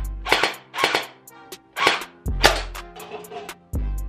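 An Unlocx gel blaster fires, giving a handful of sharp, close pops in an uneven sequence, each with a quick snap and a brief ringing tail, with no talking.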